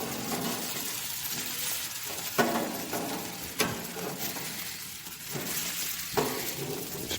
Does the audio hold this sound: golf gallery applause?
no